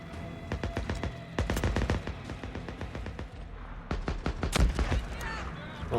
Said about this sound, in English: Let's get the sniper rifle out.